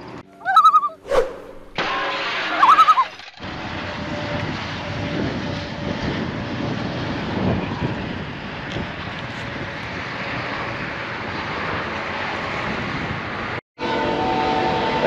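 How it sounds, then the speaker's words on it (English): A loud train rumbles past at close range with a sustained heavy roar and rattle that fills most of the stretch, preceded by a couple of brief high whistle-like tones, with a short sharp break near the end. "That sure is a noisy train."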